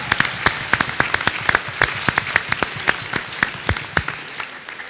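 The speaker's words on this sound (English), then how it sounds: "Let's give them a round of applause" Scattered applause from a conference audience honoring law enforcement officers in attendance, with sharp individual claps at an uneven rhythm, fairly close and clear, with no talking over it.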